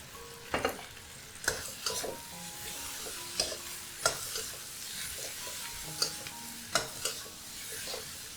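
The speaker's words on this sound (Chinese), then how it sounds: "倒入豆皮" Tofu skin stir-fried in hot oil in a wok, sizzling steadily while a utensil scrapes and tosses it in sharp periodic clatters, close and alone without talk.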